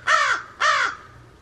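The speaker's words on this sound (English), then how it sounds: "I think he's the guard crow." Two loud, harsh caws from a crow, close by, each about half a second long and separated by a brief pause, with no other sound around them.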